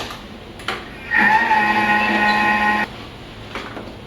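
A Thermomix food processor runs at speed 5 for a few seconds, a loud steady motor whine with a sharp start and stop, preceded and followed by quiet handling sounds.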